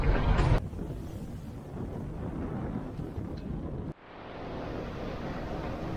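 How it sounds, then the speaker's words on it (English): Strong wind of 25 to 30 knots buffets a sailboat at sea in the Aegean, a loud continuous roar with rushing water beneath, interrupted by a brief dip before the gusting swell resumes. "So we are having 30 knots of wind, 25 to 30 knots of wind."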